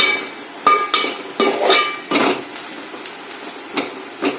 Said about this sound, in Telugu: చూడండి, బాగా ఫ్రై అవుతున్నాయి కదా